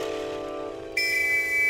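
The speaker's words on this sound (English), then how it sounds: "Someone else blew a whistle." A shrill, steady whistle tone that suddenly jumps to a louder, higher pitch partway through and holds, fairly close.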